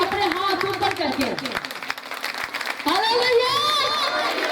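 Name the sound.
congregation applauding at healing service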